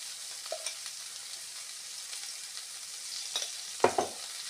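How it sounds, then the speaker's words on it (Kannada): Paneer fries in a spoonful of ghee with a soft, continuous sizzle, joined near the end by a few clinks and scrapes of a utensil against the pan; close and fairly quiet, with no talking. "ಪನ್ನೀರನ್ನು ಸ್ವಲ್ಪ ಹುರಿಯೋದು"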